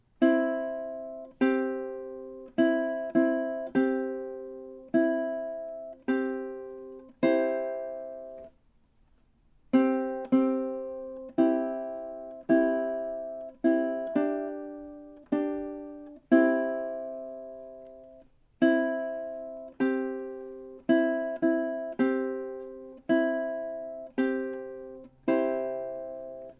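Ukulele picks the Jamaican folk melody Day-O (The Banana Boat Song) as clear, bright plucked notes in repeated short phrases with brief pauses between, played alone up close without talking.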